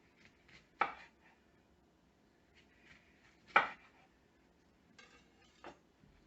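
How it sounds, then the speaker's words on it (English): Knife slicing through lemon onto a board, two distinct sharp cuts with softer taps between, quiet and close in an otherwise still kitchen. "And I will also slice a little bit of lemon."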